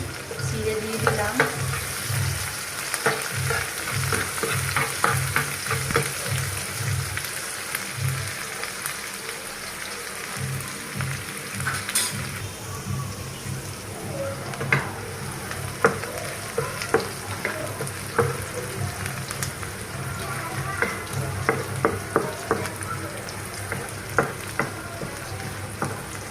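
Onion, garlic and green chili sizzle in hot oil in a pan, a steady crackling fry dotted with sharp clicks and scrapes of stirring, with no voices.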